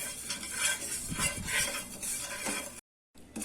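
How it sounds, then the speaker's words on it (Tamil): Cumin seeds dry-roasting in a pan for black urad dal rice, with close, steady scraping and metallic clinks of a spoon stirring against the pan, then a short silence near the end. "இப்போ நான் அந்த சீரகத்தையும் போட்டு வறுத்து எடுத்துக்கலாம்."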